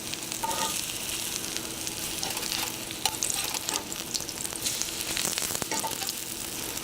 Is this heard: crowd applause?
no